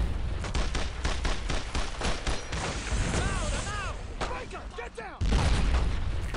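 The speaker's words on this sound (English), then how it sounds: "Wait for one more shot." Tank gun shots in Brothers in Arms: Road to Hill 30, with heavy booms and bursts of gunfire amid battle noise and voices, ending in a loud, deep blast.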